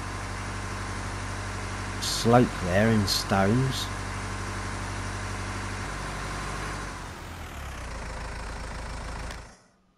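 A vehicle engine idles in Farming Simulator 19, a steady low drone under a short stretch of speech, then it winds down and cuts out near the end.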